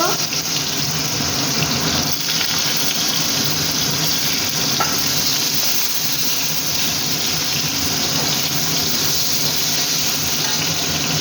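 Potatoes frying in a pan with cumin and salt, a steady sizzle and hiss that stays loud and unbroken throughout, with no talking.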